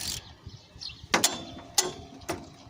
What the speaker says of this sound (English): Get this nut off here.